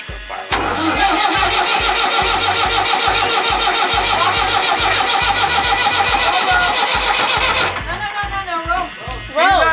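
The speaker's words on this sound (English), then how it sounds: "So they can start that engine." A Ford Lehman diesel engine on a sailboat cranks and fires, then runs with a loud, steady rhythmic chugging for several seconds before cutting off, with voices talking around it.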